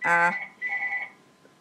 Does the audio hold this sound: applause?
no